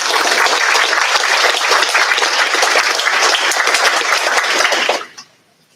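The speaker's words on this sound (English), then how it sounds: "Let's give them a round of applause." Loud, sustained audience applause fills a graduation ceremony hall, a dense wash of many hands clapping together for about five seconds before cutting off abruptly into near silence.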